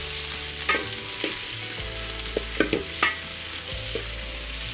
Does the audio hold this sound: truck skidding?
no